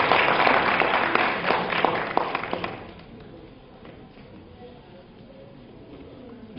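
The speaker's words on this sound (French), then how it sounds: "On les applaudit très fort." Applause for artists at a New York Ivorian community year-end ball, dense clapping that is loud at first then thins and fades after about three seconds, leaving quiet room noise with scattered sounds.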